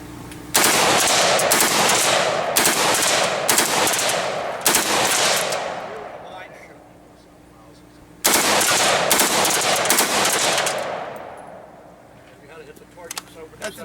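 Rapid bursts of gunfire at an outdoor shooting range, several loud close volleys in quick succession with pauses between them, the shots ringing out and decaying into the open air.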